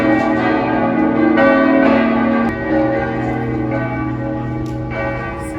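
Church bells ringing in Rome, loud, resonant strikes layered over each other with long sustained tones that swell and slowly fade.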